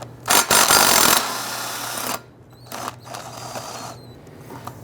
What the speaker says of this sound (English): We're going to use an 18mm socket on the front with our impact and remove these bolts.